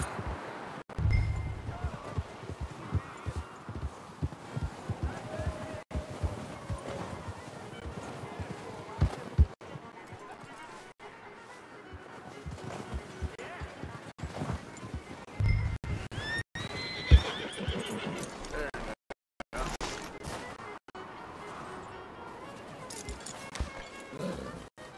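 A horse neighs and snorts while being hitched up in the video game Red Dead Redemption 2, with soft hoof clops and rustling around it and a voice speaking over parts of it.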